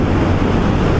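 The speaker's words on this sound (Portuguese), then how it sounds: "Aqui eu tô pegando vento contra aqui e tá forte." Heavy, roaring headwind buffets the microphone on a Honda CB300 motorcycle riding at about 60 km/h, a constant low rumble, loud and close, with no distinct voices.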